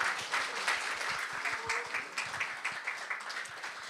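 An audience at a Korean speaking contest for international students claps to welcome the next presenter, a soft, even round of applause from a moderately distant crowd lasting a few seconds.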